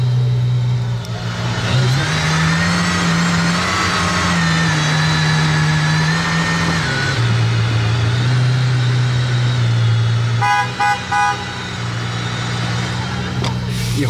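A supercar engine rumbles close by as it drives into the Fairmont hotel in Monaco, idling and revving with steady low tones that rise and fall. Brief beeps come near the end and a few voices speak faintly.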